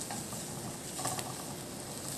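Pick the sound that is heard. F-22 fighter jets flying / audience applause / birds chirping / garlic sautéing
garlic sautéing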